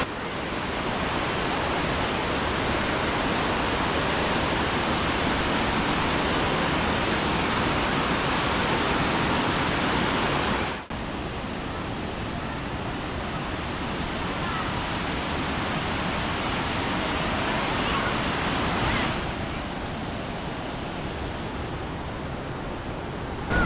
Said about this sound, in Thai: ถ้ามานอนกลางเต็นท์ตรงนี้นี่ก็คงจะได้ยินเสียงน้ำตกทั้งคืนเลยแหละ